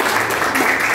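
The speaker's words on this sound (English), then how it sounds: "Please clap your hands for each other" Students in a classroom clap for each other, a short burst of dense, steady applause heard close and loud.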